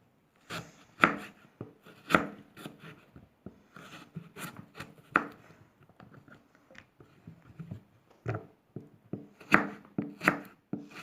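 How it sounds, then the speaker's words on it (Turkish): A knife makes repeated sharp cuts through firm peeled pumpkin against a board, thin irregular slices close by with brief pauses between strokes. "soymuş olduğumuz kabaklarımızı ince ince dilimleyeceğiz"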